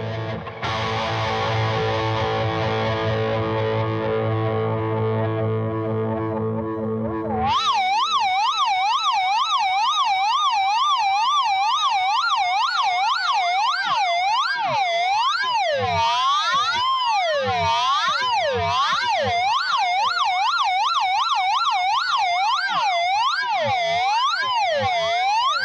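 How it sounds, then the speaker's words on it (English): A self-oscillating flanger pedal on a Telecaster guitar rig: a sustained chord gives way to loud wailing, sweeping tones that rise and fall repeatedly like an air raid siren, continuing for about 18 seconds. "If you turn feedback and pre-delay all the way up, you can actually make the pedal self-oscillate, which gives you some crazy air raid siren type sounds."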